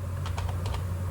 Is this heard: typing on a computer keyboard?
yes